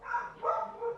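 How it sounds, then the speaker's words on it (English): A pet dog barks indoors in a short burst of two or three yaps, moderately close and fairly faint, with no talking over it. "Sorry if you guys can hear my dog barking."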